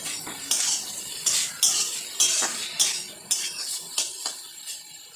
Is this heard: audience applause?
no